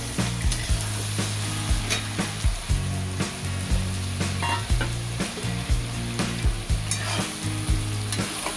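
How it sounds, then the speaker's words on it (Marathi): Chopped ridge gourd sizzles steadily in a hot pan, loud and close, with repeated scraping and clinking of a spatula as it is stirred; the frying hiss runs continuously throughout with no talking. "त्याला परतून घेऊन आपण एक 5 ते मिनिटासाठी झाकून ठेवणार आहोत."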